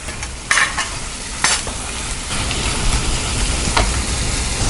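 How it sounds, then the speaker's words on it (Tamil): Onions and tomatoes sizzle loudly in a pan, sautéed for an egg biryani masala, with a steady frying hiss broken by several sharp scraping stirs of a spatula. "இது சிம்மில் வச்சுட்டு ஒரு 3 நிமிஷம் வரைக்கும் நல்லா வதக்கிக்கலாம்"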